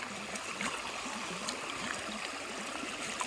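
Creek flowing outdoors on a hike, a faint, steady trickling rush of water that continues unbroken and stays quiet throughout.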